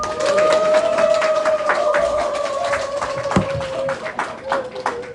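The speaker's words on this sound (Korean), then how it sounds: "따뜻한 박수 부탁드리겠습니다" Steady, warm applause from a seated audience at a lecture hall gathering, crisp hand claps running throughout alongside a sustained tone and voices.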